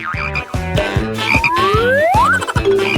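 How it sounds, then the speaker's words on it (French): A toad croaks loudly and close in a steady pulsing rhythm of throaty calls, with whistle-like tones sliding upward over it and no speech. "Non, c'est un crapaud!"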